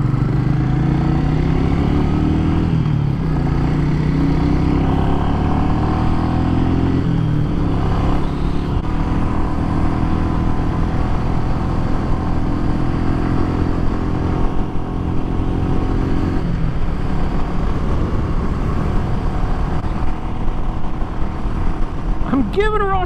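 Royal Enfield Meteor 350 motorcycle accelerating on a test ride: a loud, close engine drone climbing through the gears, with rising pitch sweeps and wind rush, while a rider talks over it.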